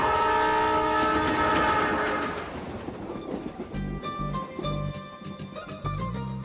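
A passenger train blows a loud, sustained horn that fades after a few seconds into steady rumbling and rhythmic wheel clatter on the rails.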